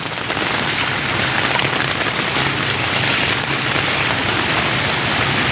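Heavy rain from Typhoon Ulysses in Pasig, Philippines pours steadily, a dense, loud hiss of drops hitting surfaces with no pauses.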